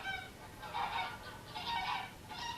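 Geese at an old thrill park honk in repeated loud bursts, several calls overlapping in ragged clusters with short gaps between, close and busy over a steady outdoor background.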